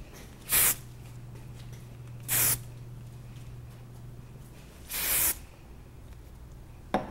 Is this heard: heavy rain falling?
no